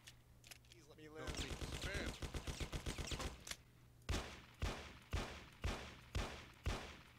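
Gunfire in the game Mafia: The City of Lost Heaven: a rapid automatic burst first, then a series of single loud shots at even intervals, each with a short decaying tail.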